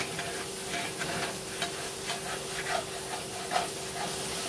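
Chicken sizzles and fries in a cast iron skillet while being stirred, a steady close hiss broken by scraping and clinking stirs, with no talking.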